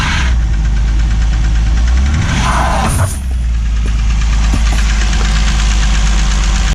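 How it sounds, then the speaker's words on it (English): A car engine idles loud and close with a steady, rough rumble, rising briefly as the car creeps partway onto tire chains laid on the ground; no one speaks. "the next step is to move the car partially on the chains"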